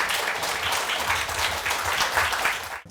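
Steady, dense applause fills a Korean medical lecture hall as the audience welcomes a hospital oncology professor to the stage for a bladder cancer talk, sustained throughout and cutting off abruptly at the end.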